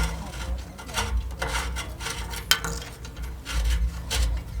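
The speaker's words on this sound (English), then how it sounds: "I'm gonna screw this in, then I'm gonna have to tighten it down" A part being screwed in by hand during work on an RV, giving close rubbing and scraping of threads in bursts, with one sharp click partway through and a low rumble underneath.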